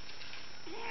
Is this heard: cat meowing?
yes